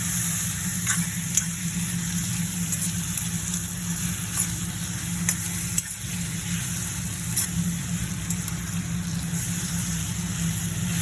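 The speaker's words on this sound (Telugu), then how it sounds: "కిందకి పైకి బాగా కలుపుకోవాలి." Chicken curry frying in a pan, stirred up and down so the pieces turn in the hot oil; a steady close sizzle runs throughout with soft scraping touches and a low hum beneath.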